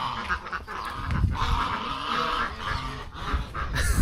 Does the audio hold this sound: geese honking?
yes